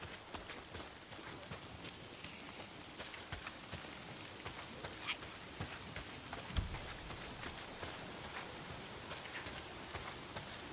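Steady rain patters continuously in the video game Days Gone, with scattered sharper drops and light tapping throughout, no voices.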